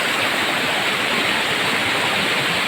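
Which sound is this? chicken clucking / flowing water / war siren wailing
flowing water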